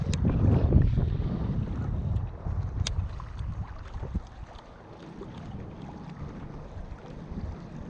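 Wind gusts across a drained lake spillway while someone fishes there. The near rumble buffets the microphone steadily, stronger at first and then easing, with no talk.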